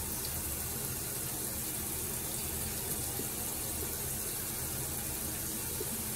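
Running water at a bathroom sink during face washing, a dense continuous splashing rush from a nearby tap, steady throughout with no talking.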